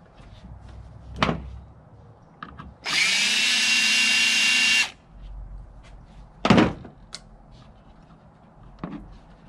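A big DeWalt power drill runs in one loud, steady burst of about two seconds while disassembling a Lenovo ThinkCentre desktop computer, framed by scattered thunks and clunks of handling the case.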